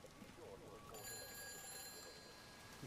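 A telephone ringing in the narrative video game Everybody's Gone to the Rapture, a faint, steady electronic ring over quiet ambient rumble and soft background noise.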